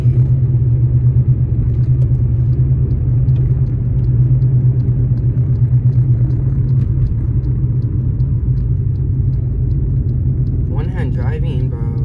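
A Hyundai car driving at night with a steady low engine and road rumble inside the cabin, continuous and fairly loud throughout, with a brief voice near the end.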